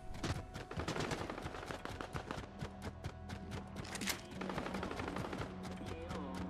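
Rapid bursts of gunfire from other players in the video game Fortnite rattle throughout, dense and fairly loud, with sharp repeated shots layered over a busy game soundscape.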